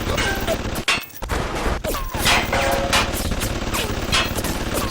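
Rapid automated turret fire in BioShock, a dense stream of gunshots with a brief pause near the one-second mark, then continuous bursts over game ambience with a voice speaking.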